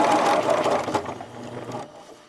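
A sewing machine stitches fabric for a soft stuffed toy, running a couple of back stitches and then sewing forward. Its steady mechanical whir runs close and continuous, then slows and trails off near the end.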